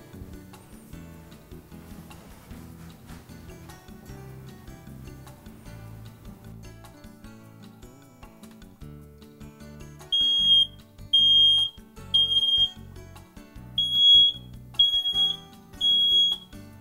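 In a house, after a stretch of low background noise, a smoke alarm being tested lets out six sharp, piercing beeps in a steady pattern, fairly loud.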